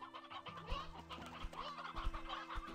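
Chickens clucking in the Slime Rancher 2 video game, a run of short, soft clucks and squawks at an uneven pace, close but quiet with no talking.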